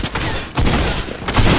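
Rapid video-game gunfire crackles in three dense bursts across under two seconds, loud and close, with no voice over it.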